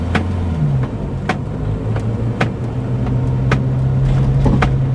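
A 1960 Hillman Minx Series IIIA motors along a hill road, its engine droning steadily with a shifting pitch, and periodic sharp clicks and knocks from inside the cabin.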